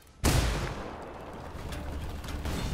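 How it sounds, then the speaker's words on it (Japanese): A C4 explosion in Ghost Recon Wildlands detonates with a sudden loud boom, then a long rumbling roar and debris noise that hold steady afterward. "C4爆発まで3、2、"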